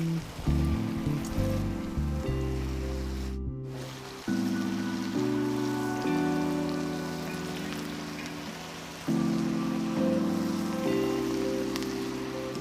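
Rice pokkavada dough balls frying in hot oil, a steady close crackling sizzle that swells each time fresh dough is dropped in, running continuously without talk, with background music playing throughout.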